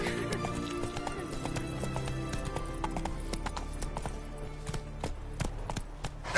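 Roach, a horse in a video game, gallops with rapid, rhythmic clip-clop hoofbeats and lets out a whinny, with game music underneath and a short voice near the end.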